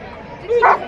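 A police dog-squad dog at a Republic Day parade in Parbhani gives a single short bark on command, close and fairly loud over a murmuring crowd.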